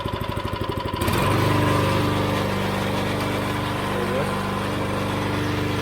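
A small pressure washer engine with a pump and gearbox is pulled over a few times and then catches, settling into a loud, steady, close running drone, with some talking nearby.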